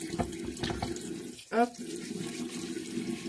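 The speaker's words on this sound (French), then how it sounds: "Je rince mes mains parce que si je me mets du rouge à lèvres partout, je vais pleurer." Water runs from a tap as hands are rinsed at a sink, a close, steady splashing stream under a woman's speech, with a brief short exclamation midway.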